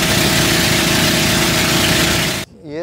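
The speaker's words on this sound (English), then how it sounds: "despite the really loud engine" A very loud boat engine roars continuously at close range on a trip from Sohoton Cove in Siargao, Philippines, then cuts off abruptly near the end.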